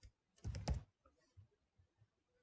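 A computer keyboard is typed on while HTML code is written, with a short burst of close keystrokes followed by a few softer, scattered key taps.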